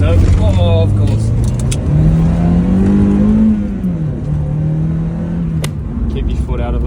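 A Mazda MX5 drives along with its engine humming and rising in pitch as it revs, then easing off, with people talking inside the car over the engine.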